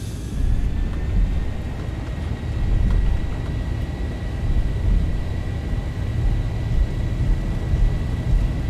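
Steady, loud roar of Boeing 737 engines spooling at takeoff thrust in the Zibo mod flight simulator, a continuous broadband rumble with a faint tonal whine above it, no talk.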